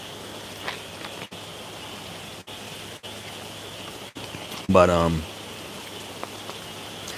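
Steady rain falls in a constant, even hiss that holds throughout, with one short spoken word near the middle.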